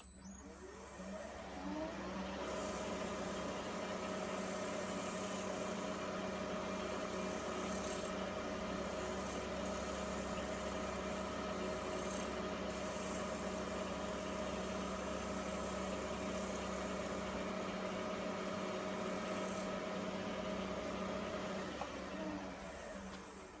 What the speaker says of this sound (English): And then we'll spin the lathe up.